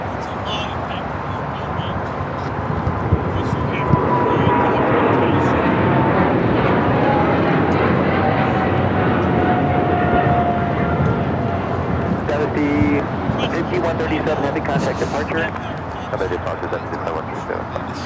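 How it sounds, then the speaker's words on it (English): China Airlines cargo Boeing 777 freighter taking off from LAX, a loud sustained jet roar that builds and holds, then slowly fades, with a voice talking over it. "This is China Airlines cargo 5137 taking off to Taipei on the 777 freighter."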